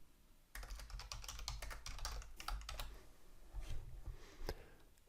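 Keys clatter on a computer keyboard as an email address is typed in, a quick close-up run of clicks with brief pauses between bursts, no talking.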